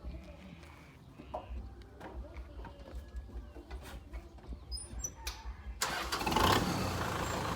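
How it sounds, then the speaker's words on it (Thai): A 2010 Kubota M6040SU tractor engine idles with a steady, low, close rumble, growing somewhat louder and rougher toward the end. "เดี๋ยวฟังเสียงเครื่องนะครับ"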